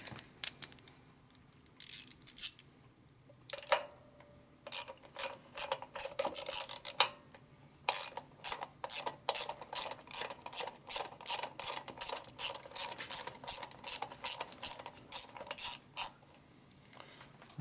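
Socket wrench ratcheting on a 1970 Harley-Davidson Sportster XLCH ironhead bobber, a close, crisp clicking in short bursts that settle into a long, steady run of rapid ratchet strokes.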